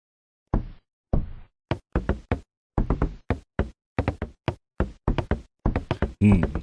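Footsteps in the horror game The Apartment land as hard, knock-like thuds in quick, uneven bursts, loud and close with no talk over them.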